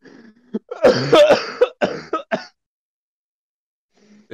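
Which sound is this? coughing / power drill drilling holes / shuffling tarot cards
coughing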